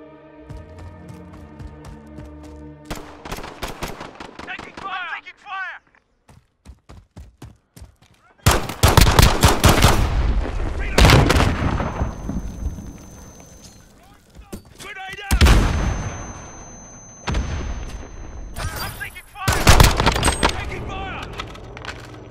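Gunfire in Call of Duty MW Alpha, a 2v2 speedball match: bursts of automatic weapon fire and sharp single shots, loud and close, separated by quieter gaps, with voices calling out between them.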